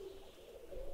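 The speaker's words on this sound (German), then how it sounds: "Oh, das sind Tauben." Pigeons cooing on a rooftop in the point-and-click adventure game Randal's Monday, a soft, low, steady coo lasting about a second, faint and without talk.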